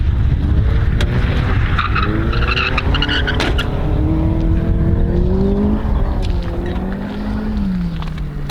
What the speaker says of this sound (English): Looks like these are the drift cars.